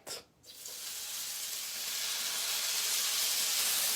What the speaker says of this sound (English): that sounds like it's going to sizzle, Chris